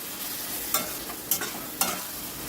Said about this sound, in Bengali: আবার একটু নাড়াচাড়া করে দিলাম।